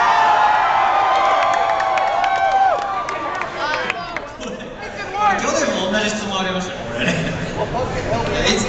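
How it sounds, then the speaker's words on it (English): A convention audience at a Sonic Boom fan Q&A cheers, whoops and claps loudly, with the roar gradually dropping before talk over the microphone and renewed crowd noise. "You're going to have to make them stop cheering."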